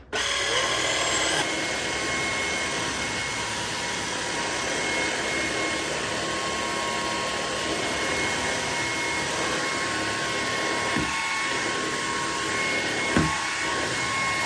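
A cordless vacuum cleaner runs along a baseboard with a steady, loud motor whine and airflow roar that holds for the whole stretch, with a couple of brief knocks near the end.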